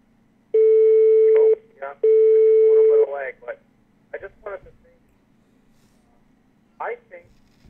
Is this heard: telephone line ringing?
yes